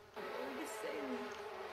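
Bees buzzing in The Sims 4, a steady close insect drone with small pitch wobbles that starts abruptly and continues throughout.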